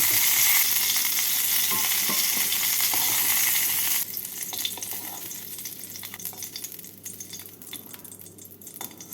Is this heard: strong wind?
no